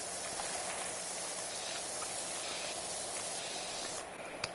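A pressure washer sprays steadily in Power Wash Simulator 2, a continuous loud broadband hiss lasting the whole stretch, easing slightly near the end, with no voices.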